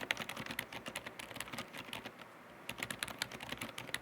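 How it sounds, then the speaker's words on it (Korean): Rapid, continuous typing on a COX C108 full-size mechanical keyboard fitted with Outemu Honey non-clicky tactile switches, close and clear, with a brief pause in the keystrokes midway and no voices. "오테뮤 허니 스위치는 넌클릭이다 보니 걸림감이 확실히 느껴지는 스위치고요"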